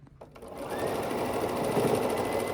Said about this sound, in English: I'll sew this 9-inch block to those half square triangles